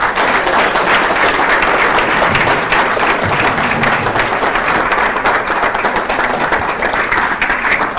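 Audience at a 2015 Jamhuri Day celebration in Minnesota breaks into loud, sustained applause, a dense steady wash of clapping that fills the whole stretch without pause.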